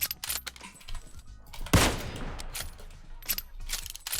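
Gunfire in the PUBG Mobile battle royale game: a burst of rapid shots with dense clicking and rattling, one loud blast around the middle, and quieter shots scattered through the rest.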